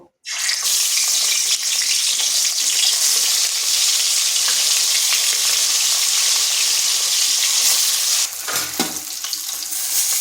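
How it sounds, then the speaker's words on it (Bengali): Fish rubbed with salt and turmeric fry in hot oil in a kadai, a steady, loud, dense sizzle and crackle that runs without a break, easing briefly near the end. "এরপর মাছগুলো ভেজে নেব"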